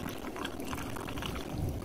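Hot tub flush cleaner poured straight into the tub's skimmer, a steady low splashing trickle of liquid lasting about two seconds, close and soft with no voices.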